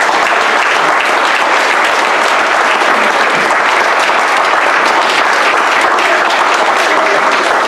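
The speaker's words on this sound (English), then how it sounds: "I'd like to give another round of applause for all of these students" Loud, dense applause from a school board meeting audience celebrating students, steady and sustained throughout without a break, many hands clapping close together with no talking over it.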